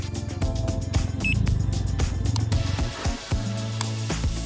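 A Can-Am Ryker 900 motorcycle engine cranks and starts close by, settling into a steady idle hum with a brief shift in tone near the end.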